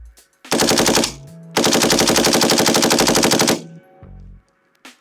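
A Colt LMG light machine gun fires full auto in two loud, close bursts, a short one of under a second and then a longer sustained burst of about two seconds, with a rapid even cadence and no talking.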